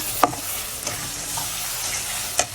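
Spice paste being sautéed in oil until the oil separates, for a potato and flat bean curry: a loud, continuous sizzle with a few sharp scrapes of the spoon against the pan, heard close and without voices.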